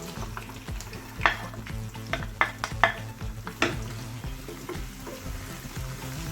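Thinly sliced onions sizzle and fry in a hot pan, a steady crackling bed broken by several sharp clinks and scrapes as they are stirred, with no talking.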